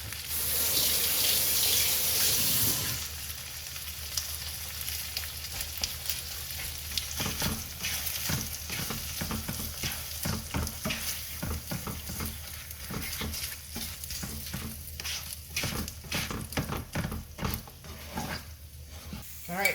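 A keto egg scramble sizzles and is stirred in a pan, with an initial burst of hiss followed by a steady fry and repeated scraping clinks of a utensil against the pan, heard up close.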